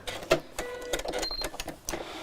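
A sewing machine stitching a seam across fabric, short bursts of whirring and clicking broken by brief pauses, close by and moderately loud, with no speech.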